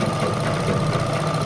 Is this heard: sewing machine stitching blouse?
yes